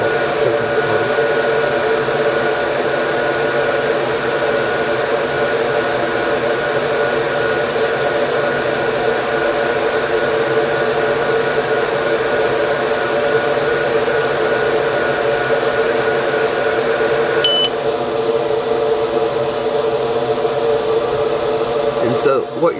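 The exhaust fan of an xTool F1 laser engraver runs continuously during engraving of a black metal business card, a loud, steady whooshing drone with a faint tonal hum, a short click near the end.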